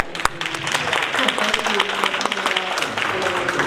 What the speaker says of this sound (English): a round of applause for coming